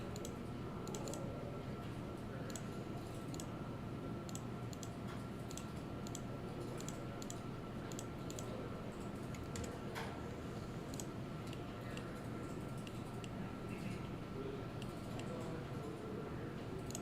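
Many people in a PCB design workshop click computer mice and tap keyboards, producing a steady scatter of faint ticks and clicks over a continuous room hum for the whole stretch, with no talking.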